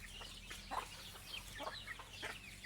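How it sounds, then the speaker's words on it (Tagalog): Farm chickens clucking, a scatter of soft, short clucks and murmurs from several birds, fairly close but quiet, over a low steady background hum. "Ayan yung ibang mga manok mga kabukid."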